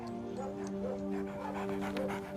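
A Labrador puppy pants close by, quick rhythmic breaths with faint whimpery tones, steady and unbroken for a couple of seconds.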